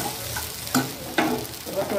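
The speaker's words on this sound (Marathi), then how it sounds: "आपण व्यवस्थित तुपामध्ये त्याला परतून घेतलं।" Sabudana khichdi, tapioca pearls cooked with sugar, being stirred and sautéed in ghee in a pan, with a soft sizzle under two sharp scraping strokes of the spoon.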